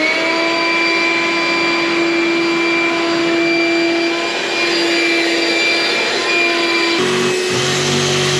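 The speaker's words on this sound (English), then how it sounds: "turn the vacuum off, just shut it off" A vacuum cleaner runs steadily and loudly close by, with a constant whine and strong hum that shift abruptly near the end as the motor changes load or begins to shut off, with no talking.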